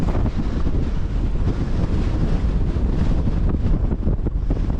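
Strong gusty wind buffets the microphone continuously on a fell summit in the Northern Pennines, a loud roaring rumble with no voices.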